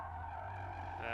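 Tires on a Lancer Evolution SE squeal while cornering at an autocross, a steady sustained whine over engine drone, brief and fairly faint, with no talking.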